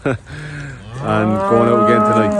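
Dairy cows on an Irish dairy farm mooing in the field, a loud, close, drawn-out low call following a man's brief speech.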